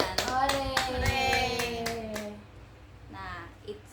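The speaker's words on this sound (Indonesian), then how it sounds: "Ayo tepuk tangan. Hore!" Children in a classroom clap along with a few rhythmic, spaced hand claps while young voices call out and sing a cheer over them, close and fairly quiet.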